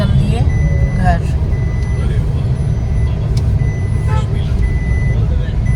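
A car being backed into a parking spot outside a home, with a repeated reversing beep sounding over steady engine and road noise close by, and voices in the background.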